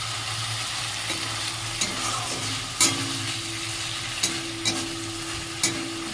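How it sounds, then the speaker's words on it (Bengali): An egg omelette fries in a pan with a quiet, continuous sizzle, broken by a few sharp scrapes and clicks of a spatula against the pan at irregular intervals. "ডিম ভাজা হয়ে গেল"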